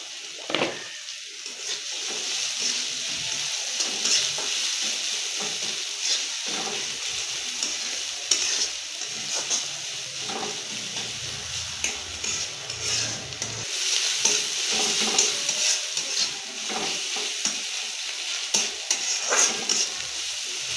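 Chili and onion sizzle steadily in a pan with a constant hissing fry, broken by occasional scrapes and clinks of stirring, close and continuous with no talk.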